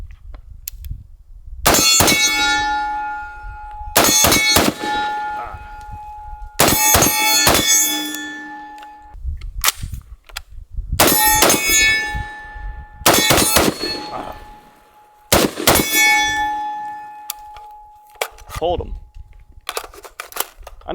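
SIG Spear 16-inch .308 rifle fired in quick double taps at a range, sharp loud reports in pairs and triplets with ringing metallic steel-target clangs decaying after each string, repeated about six times.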